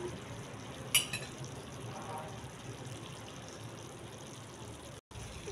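Chicken pieces fry in hot oil in a kadai, a steady broadband sizzle carrying on throughout, broken near the start by a single sharp clatter as the pieces are flipped in the pan.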